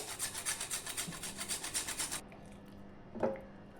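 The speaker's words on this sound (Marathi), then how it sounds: "आणखी जायफळ घ्यायचे किसून." Nutmeg grated in a kitchen while making sweet crispy cucumber appe, a fast rhythmic rasping scrape repeated about a dozen times for two seconds, then stopping, followed by a single brief clatter.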